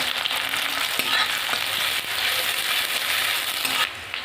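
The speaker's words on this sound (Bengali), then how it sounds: "এবার রসুন আর পেঁয়াজটা, লঙ্কা আমি দিয়ে দেবো। এগুলোকে একটু ভেজে নেব" Garlic, onion and green chili frying in a pan for mustard greens, a continuous bright sizzle with light stirring scrapes and occasional small knocks, close and steady.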